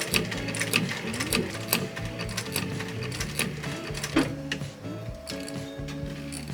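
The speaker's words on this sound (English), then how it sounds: "we're gonna go inside and we're gonna sew the pocket closed" A sewing machine stitches a leather bag pocket closed, a close rapid mechanical whirring with steady ticking needle strokes, running continuously with slight changes in speed.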